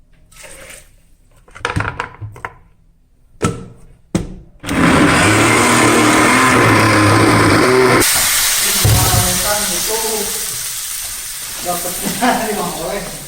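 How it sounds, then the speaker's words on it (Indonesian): A kitchen blender grinds garlic and spices for chicken rendang, starting after a few clinks and taps and then roaring loudly and steadily, its pitch shifting partway as the mixture breaks down. "Nah, semua di blender"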